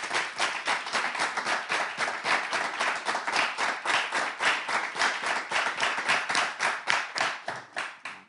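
Audience at a reading-culture event claps in sustained, rhythmic applause, many hands beating in a steady patter that holds for several seconds before tapering off.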